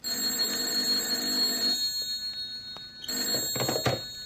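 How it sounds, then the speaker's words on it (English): A telephone rings shrilly in two bursts of electronic trilling with a brief pause between, close and clear, ending in a clunk as it is picked up. "Then my phone shrilled."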